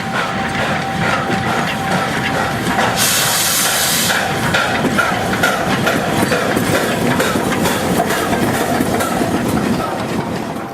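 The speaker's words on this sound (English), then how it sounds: "The line from Xingqi to Dongliang, together with the branch to Wangying, is served by a couple of dozen passenger trains each day, all of them steam-hauled" A steam-hauled passenger train on the Fuxin railway line between Xingqi and Dongliang in China rumbles past loud and close, with steady clattering wheels and hissing steam throughout.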